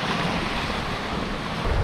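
Sea waves wash at the foot of Mount Olympus while a light wind buffets the microphone, a loud, steady roar of surf with low rumbling gusts and no voices.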